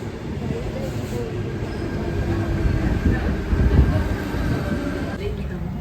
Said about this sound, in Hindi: ट्रेन आ गई ट्रेन।